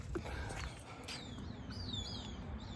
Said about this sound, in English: It sounds like some kind of forest here, the birds singing.